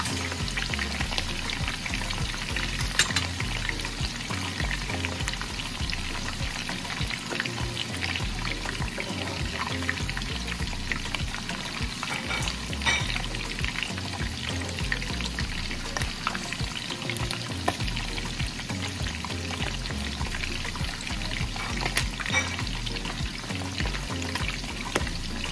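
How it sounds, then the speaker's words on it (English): Deer meat pieces frying in a pan in African Congolese style, a continuous dense sizzle and crackle of hot oil holding at an even level throughout, no voices. "So we are going to fry until when they are brown"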